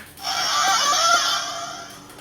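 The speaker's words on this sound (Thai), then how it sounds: "เสียงรูดซิปเปิด" A short electronic toy sound effect from a DX Kamen Rider Gaim Lockseed Drive belt toy: a synthesized zipping swoosh that rises and fades over about two seconds, heard alone.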